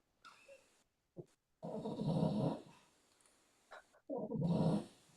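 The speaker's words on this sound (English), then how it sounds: "I was giggling at your doggy" A dog growls and huffs in short, breathy bursts separated by gaps of silence, close to the microphone and fairly loud, with no talking over it.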